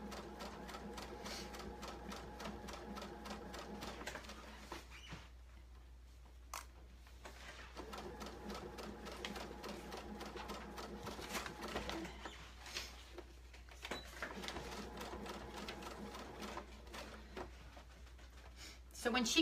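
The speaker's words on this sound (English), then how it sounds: "next we're going to be sewing our fin" A sewing machine stitching the fin of a kids' shark tail blanket in rapid, rhythmic runs with short pauses between bursts, fairly quiet, with faint voices in the background.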